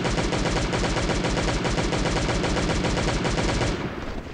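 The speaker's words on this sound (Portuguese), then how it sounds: "Vamos pra metranca. Metralhar esses camaradas." Rapid, sustained machine-gun fire in the survival video game Last Day On Earth, a loud, dense stream of shots for nearly four seconds before cutting off into a quieter tail.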